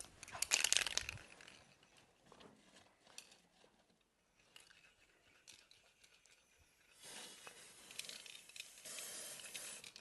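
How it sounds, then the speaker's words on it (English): A spray bottle misting the waxy side of a half sheet of palette paper for stencil crafting: a loud opening burst of hiss, quieter rustling, then a longer softer spray near the end, without voices. "I'm going to spray the waxy side"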